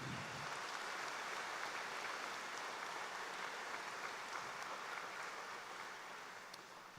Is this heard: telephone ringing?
no